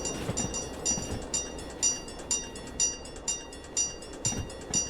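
Train carriages roll over a level crossing in a railway simulation game, with a steady series of rhythmic clacking wheel beats over a rumbling drone, loud and close throughout.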